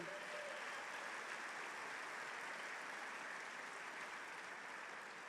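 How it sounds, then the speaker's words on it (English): Steady applause from a large crowd at a reception and dinner, evenly sustained throughout with no voices breaking through. "How about a great round of applause for all of them?"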